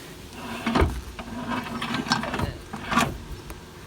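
Ratchet or nut buster working wheel nuts on a vintage camper van with a locked-up brake, roadside after breaking down; a few sharp metallic clicks and bursts of ratcheting in short uneven strokes, close and fairly loud.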